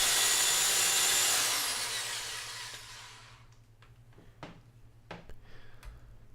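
A power drill with a countersink bit cuts into thin metal, a loud high whine that winds down and fades, followed by scattered light taps and clinks nearby.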